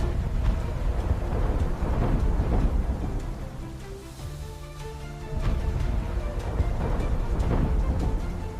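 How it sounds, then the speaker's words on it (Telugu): A thunderstorm with heavy rain makes a loud, dense roar of rainfall and deep rumbling thunder that swells and fades over several seconds and eases briefly midway before surging back. "రాత్రింబవళ్ళు వర్షం పడింది"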